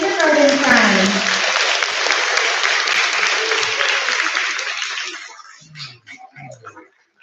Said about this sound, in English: Let's give a round of applause for our kindergarten friends.